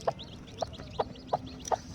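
A black-and-white multicoloured hen clucks close by beside a hatching chick: five short, evenly spaced clucks over two seconds against a quiet background, with no talking.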